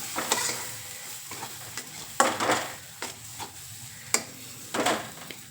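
Chicken being stirred in a pan for a chicken fry, with a soft sizzle under irregular scraping strokes of the spoon, several sharp strokes spaced a second or so apart, close and moderately quiet.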